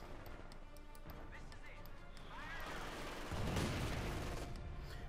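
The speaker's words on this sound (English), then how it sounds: "Oh, we got the machine gun there as well." Machine gun fire and other battle effects in Company of Heroes 2, a real-time strategy game set in World War II, heard as dense gunfire growing louder toward the end, with a commentator's voice running throughout.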